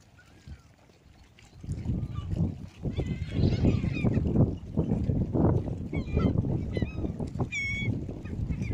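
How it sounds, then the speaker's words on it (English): Seagulls crying over a windy deserted beach at Waterloo near Liverpool, England, scattered squawks in the distance over steady roaring wind noise. "All the seagulls get the look in."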